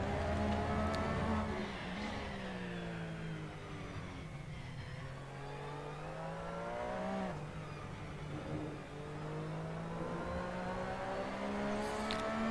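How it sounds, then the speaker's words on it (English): The rear-mounted engine of a Porsche 911 RSR howls through a racing lap of the Nürburgring, revving up and down through gear shifts in a steady, loud onboard roar with no talking. "I will try and keep us quiet to enable you to hear this beast of an engine on the rear end of the car."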